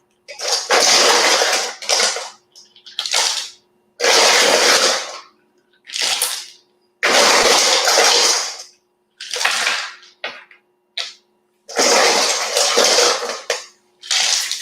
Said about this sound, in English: I'm going to pour some more ice over top.